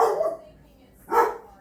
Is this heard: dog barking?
yes